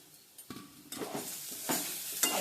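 Grated coconut roasts with onion in a pan, heard as quiet stirring strokes and light sizzling bursts that come in a loose rhythm of four or five scrapes.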